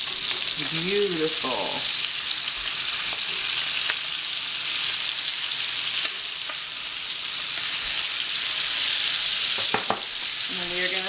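Food fries in a hot pan after being flipped, a constant loud hiss and crackle that runs the whole way through, with a few brief utterances and small clinks over it.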